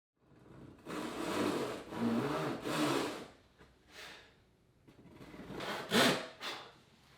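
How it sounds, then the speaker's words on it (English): A fine-tooth handsaw cutting wood along a scribed line on a backdrop wall panel, with several rhythmic back-and-forth rasping strokes that pause briefly between passes, close and fairly loud. "We're using a handsaw, fine tooth handsaw."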